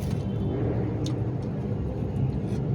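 Steady low engine rumble outside a studio, a continuous droning roar with no voices, like motorcycles idling and revving nearby.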